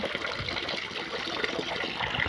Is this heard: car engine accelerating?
no